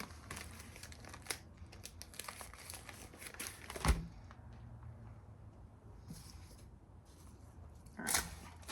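Tissue paper crinkling and rustling while eBay and Poshmark orders are packed, soft close handling noises running throughout with a couple of louder crumples standing out.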